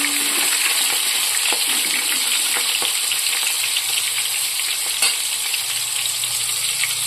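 Soybean chunks frying in hot oil in a wok, a loud, dense, continuous sizzle close up, with a few faint scrapes and taps underneath.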